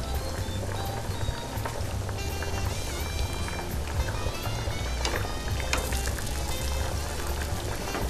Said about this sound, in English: I'm just using regular vegetable oil, canola oil to fry